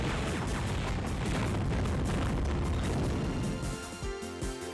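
Loud, dense run of missile explosions and booming blasts in the video game FireFight, continuous and overlapping, then breaking into sharper bursts near the end.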